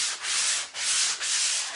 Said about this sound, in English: We're just sanding.